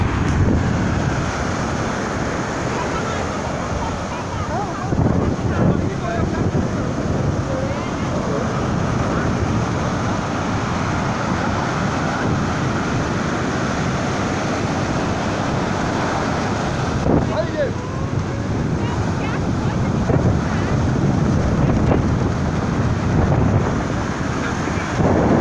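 Wind and surf at Praia do Iguape beach, a loud, constant roar of rushing waves blended with heavy wind buffeting the microphone, unbroken from start to finish.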